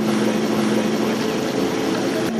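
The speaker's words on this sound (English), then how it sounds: "The wake from 4 jet boats." Loud, steady engine drone with a strong low hum from four jet boats passing close on the Whanganui River, continuous for a couple of seconds, no voices.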